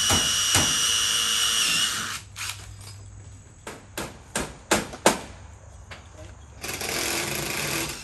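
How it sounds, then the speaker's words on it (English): A drill bores screw holes through a stack of metal siding panels for a pole barn wall, giving a loud, harsh, sustained grinding at the start and again at the end, with sharp metallic knocks and clanks in between. "when they drill them, they drill through the whole stack"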